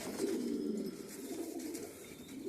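French meat pigeons coo in a deep continuous rolling murmur, close and moderately soft, with no one speaking.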